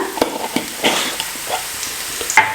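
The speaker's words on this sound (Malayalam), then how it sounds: "ഇനി ഞാനതിലേക്ക് ഏകദേശം ഒരു 1/2 ടീസ്പൂൺ മഞ്ഞൾപ്പൊടി ആഡ് ചെയ്ത് കൊടുക്കുകയാണ്" Half a teaspoon of turmeric powder is stirred into a pan over the lowest flame while making Indian-style veg pasta: a soft sizzle under a series of distinct scraping and tapping spoon strokes, close up, with no speech.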